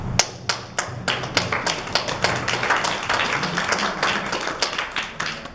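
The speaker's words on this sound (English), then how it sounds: "I think we should give the gentleman a round of applause for being passionate about his province." Scattered audience applause at a political debate on forestry: a modest crowd claps in a room, with irregular close hand claps over a soft background.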